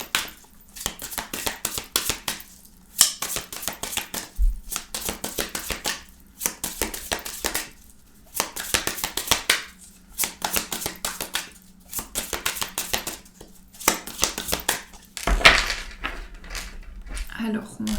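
A deck of witches' tarot cards being shuffled and cut, repeated soft riffling and tapping bursts broken by short pauses, with someone speaking French throughout.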